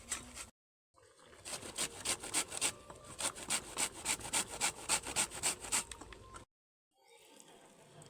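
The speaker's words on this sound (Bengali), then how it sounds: "এদিকে সবগুলো আম আমি গ্রেট করে নেব" Raw mangoes scraped against a grater: a steady run of rhythmic rasping strokes, fairly close, with a pause before and after, no talking.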